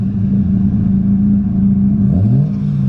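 A Nissan 240SX engine revs steadily and loudly throughout, its pitch dipping and then climbing near the end, with a second car engine idling close by.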